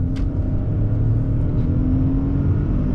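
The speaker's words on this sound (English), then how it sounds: "Put some foot on the gas and see how you feel it." A 2021 Ford Bronco Sport accelerates in sport mode, its engine a steady, close rumble and whir from inside the cabin with no pause over the full stretch.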